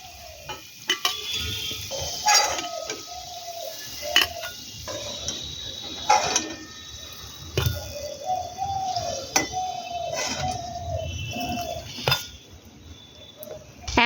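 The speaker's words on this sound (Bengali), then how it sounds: "এবারে আমরা পিঠেগুলোকে তেল থেকে তুলে নেব" Palm fruit pakon pitha is lifted out of hot frying oil in batches, with sizzling under repeated metallic clinks and scrapes of a utensil against the pan, and faint bird-like chirps in the background.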